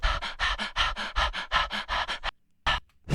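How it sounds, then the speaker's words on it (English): Dog panting sound used in a music session, a fast run of rhythmic breathy pants close up and loud, breaking off into a brief silence before one more burst. "More like dog noises."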